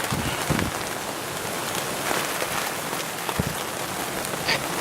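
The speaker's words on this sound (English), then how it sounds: "Now we have sleet and snow and blowing wind." Steady outdoor weather noise during deer hunting, a broadband wash of wind with sleet and snow hissing and pattering, a few soft gusts and thumps, no voices.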